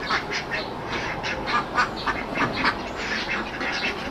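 Ducks kept shut in an enclosure near a pesticide-sprayed rice paddy quack continuously in a dense, overlapping chorus, fairly close and loud, with no talking.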